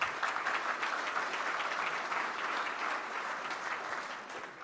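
Sustained audience applause at a Rotary Club of Tulsa meeting, a steady dense patter of clapping hands filling the room for nearly five seconds before easing slightly at the end.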